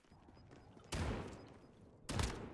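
Video game gunfire rings out in two loud, close bursts about a second apart, each a quick volley that fades into a quieter background with no talking.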